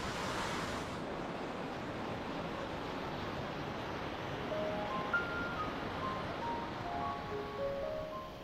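Sea surf rolling onto Mandarmani beach in the late afternoon, a steady broadband wash of waves with some wind noise, continuous and moderately distant, no talking.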